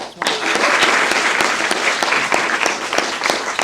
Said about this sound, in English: Let's just give him a clap straight away.